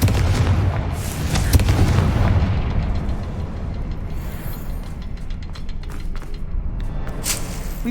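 A Confringo blasting curse goes off in the Hogwarts Legacy video game, a loud rumbling explosion with a heavy low boom that decays into a sustained crackle and mechanical rattle.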